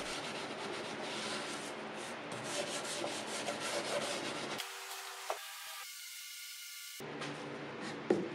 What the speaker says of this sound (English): As you can tell, I did lots of scrubbing.